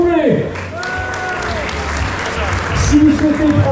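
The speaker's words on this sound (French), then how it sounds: "je demande à tous les collègues du trail de les applaudir bien fort" Crowd applauding trail runners on the podium at the Trail de Minuit, a steady dense clapping that runs the whole length, with an announcer talking over it and a few whistles or cheers mixed in.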